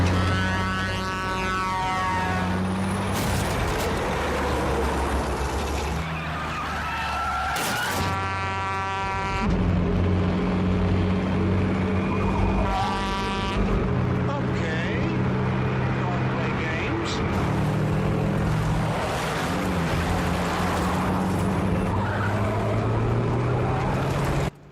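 Roaring engines from a 1971 thriller about a tractor-trailer chasing a car, with loud revving, tire screeches and passing vehicle rumbles mixed with bursts of tonal horns and blaring music, intense and layered throughout.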